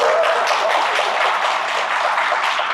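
Audience applause in a lecture hall at a Korean tax seminar, a steady dense wash of many hands clapping throughout, fairly loud and with no voices over it.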